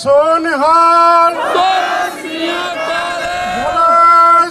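At a farmers' solidarity rally in Hamburg, Germany, a leading voice calls and a large crowd thunders back the Sikh jakara war cry, the chant loud and close, repeating in rising, overlapping waves.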